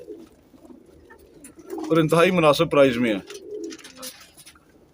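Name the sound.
pigeons cooing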